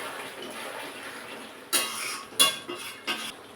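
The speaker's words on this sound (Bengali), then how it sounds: "এবার ঢাকাটা খুলে দেখে নিচ্ছি।" A lid lifted off a cooking pan of kada fish curry, a few clanking metal knocks and scrapes over a quiet background hiss, close and fairly brief, no speech.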